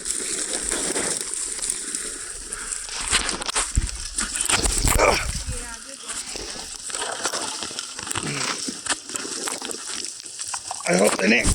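A hunting dog on a cold-weather bird hunt makes intermittent yelps and noises amid rustling, wind and frequent talking voices.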